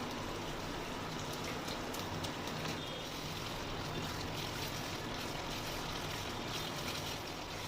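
Soaked paneer pieces drop into hot white oil with spices, giving a steady, dense sizzle and crackle that stays even throughout without any talking.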